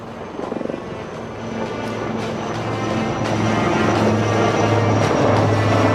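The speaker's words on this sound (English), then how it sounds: "Next in line are the light combat helicopters Prachand of the Indian Air Force." Indian Air Force Prachand light combat helicopters fly past at the Aero India 2023 air show, their rotor and engine drone building steadily louder over six seconds with a rhythmic thrum.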